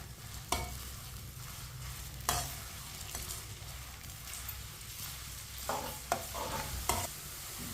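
Onions sizzle softly in a pot over medium heat, with a low steady fry and a few sharp scraping knocks as a spoon stirs them, close but quiet.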